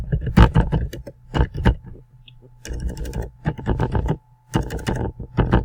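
A new contractor's name typed on a computer keyboard, with quick clusters of key clicks broken by short pauses over a faint steady electrical hum.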